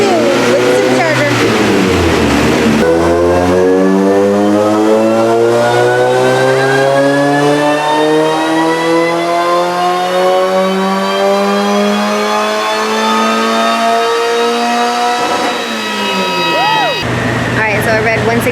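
On a dyno, a supercharged Mazda Miata engine revs loud and close in one long pull, pitch climbing steadily for over ten seconds before dropping off, with supercharger whine and exhaust roar throughout.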